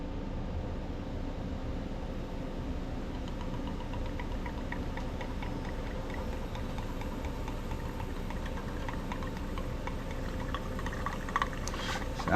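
Compressed air bubbles through the oil inside the crankcase of an MTD Powermore small engine that won't start and pops out its intake. The gurgling is a steady, continuous churn with faint ticking on top, close by, and no one talks.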